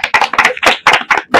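Children at a Children's Day gathering clap in a loud, close run of uneven bursts, several quick claps with brief gaps between them.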